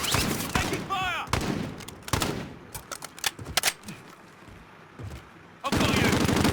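Rapid gunfire bursts crackle in a first-person shooter game, with sharp repeated shots and short pauses, alongside clipped voiced callouts, ending in a sustained loud volley.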